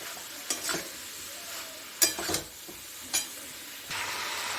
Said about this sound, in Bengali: এরপরে আমি এই একটু ভেজে রেখেছিলাম পটল আর ঝিঙা দিয়ে দিই। ওইটা আমি একসঙ্গে আবার কষিয়ে নিব